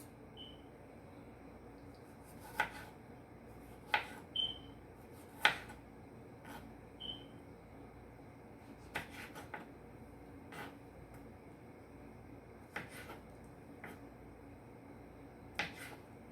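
Knife chopping fresh tomatoes on a cutting board for pico de gallo, giving a handful of sharp, separate taps spaced irregularly, fairly faint against a quiet kitchen background with no talking.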